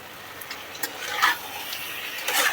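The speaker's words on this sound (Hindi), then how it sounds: "इसमें वाटर कम ही बचा है, इसे मैं फ्राई कर दूँगी हाई फ्लेम पे।" Mutton biryani mixture fries in a pot over a high flame, with a faint, steady sizzle broken by a few soft scrapes and clinks as it is stirred.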